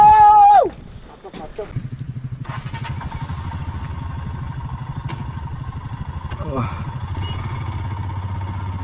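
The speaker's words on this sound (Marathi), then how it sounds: "चलो बाइक स्टार्ट करो" Motorcycles at a water crossing on a Zanskar, Ladakh mountain route: a short voice opens, then an engine catches into a steady, close idle with one brief rev midway and continuous rumble throughout.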